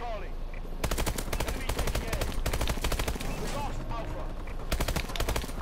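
Boar Strike killstreak gunfire in Call of Duty: Advanced Warfare rattles out in loud, rapid automatic bursts. The volleys come in dense clusters, separated by brief quieter gaps.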